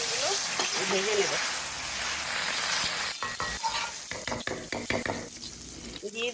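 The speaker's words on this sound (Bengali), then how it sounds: "এখন উচ্ছে দিয়ে ডাল করার জন্য উচ্ছেগুলো ভেজে নেব।" Bitter gourd slices fry in hot oil in a home kitchen for Bengali lunch dal, a steady close sizzle that gives way to repeated scraping and clinking of a spatula stirring in the pan, with a voice briefly heard at the start.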